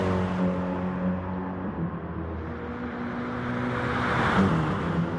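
Race cars in the game GT Sport, including a Dodge Viper, Ferrari and BMW, drone steadily at high revs in a Le Mans race, a sustained engine whine that shifts pitch as cars pass, loud and unbroken with no talk.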